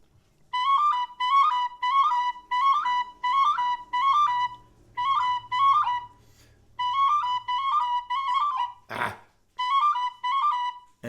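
John Ryan's (Armagh) Polka played on a D tin whistle, bright, clean repeated phrases in a lively bouncing rhythm, close and solo, broken by a brief pause and a short sharp noise before the tune resumes.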